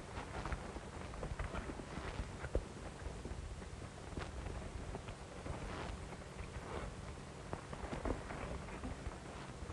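Horses walking in a video game, a faint series of irregular hoof clip-clops under a low wind-like background hiss, with no one talking.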